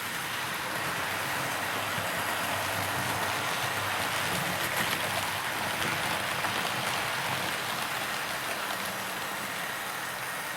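A Tri-ang model train carrying a rebuilt West Country class loco and rolling stock runs around a layout, making a steady, continuous rolling rumble and hiss at moderate volume with no voices.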